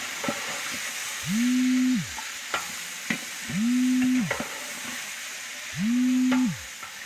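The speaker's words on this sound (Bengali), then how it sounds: "এখন চিকেনটা ভাজবো।" About 4 kg of salted chicken pieces frying for biryani: a continuous sizzle and hiss with stirring clatters and clicks, cut through by three sustained low electronic tones, no speech.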